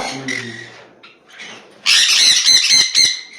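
Home-bred pet lovebirds and conures squawk close by. A few softer calls come first, then a run of loud, harsh, repeated shrieks.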